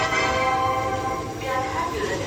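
The Sabari Express pulls out of a station platform in Telangana with a steady, loud rumble of wagons rolling close by, a continuous mechanical drone under faint background voices.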